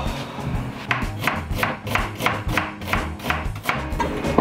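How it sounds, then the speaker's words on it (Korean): A kitchen knife cuts vegetables into thin julienne strips for a home-cooked curry, making fast, steady chopping taps on a board, close and fairly loud in an even rhythm. "채 썰어주시는데 어차피 저는 갈 거거든요?"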